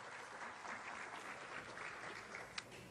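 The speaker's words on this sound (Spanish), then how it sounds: "Nuevamente fuerte los aplausos." Sustained audience applause after a lecture, a dense, even patter of many hands clapping at a moderate distance, with one sharp clap standing out near the end.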